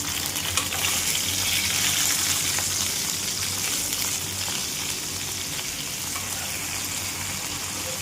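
Ivy gourd curry frying in a pan, a steady broadband sizzle that holds evenly throughout with occasional stirring scrapes, close and fairly loud, with no talking.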